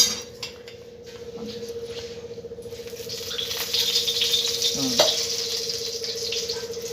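Oil heats in a pan over a gas flame for tempering mustard seeds in Maharashtrian home cooking. A soft sizzle swells partway through, with light utensil clatter and a steady low hum, nearby and fairly quiet, with no talk.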